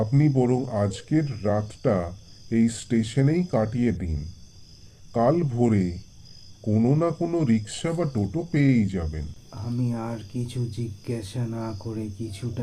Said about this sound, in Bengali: ঝিঝি পোকার ডাক অল্প অল্প ভেসে আসছে